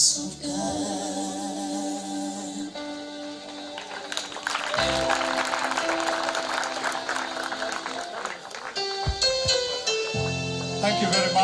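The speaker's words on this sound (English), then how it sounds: "The applause says it all." Audience applause fills the hall at the installation ceremony of the 4th UMU Vice Chancellor, rising suddenly after a sung passage and continuing as a dense, steady clapping roar mixed with fading music.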